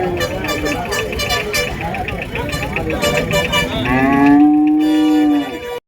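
A cow lows long and deep at a busy cattle market selling plough bullocks and calves in Tirupattur district, the moo swelling near the end over steady crowd chatter and market din.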